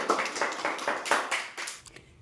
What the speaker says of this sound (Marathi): एकदा जोरदार हिच्यासाठी टाळ्या झाल्या पाहिजेत